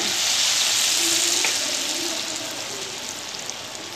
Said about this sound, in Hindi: डाल दिए फ्राई हो रहे